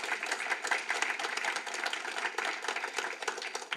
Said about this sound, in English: Let's give our scholarship recipients one more round of applause.